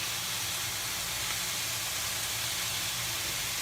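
Turkey meatballs sear in a hot pan, giving a continuous, fairly loud hissing sizzle with no breaks.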